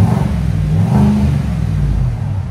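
A 2024 Chevy Tahoe 5.3L V8 fitted with a cold air intake revs up loud and close, one rising and falling engine roar over a couple of seconds, no voices.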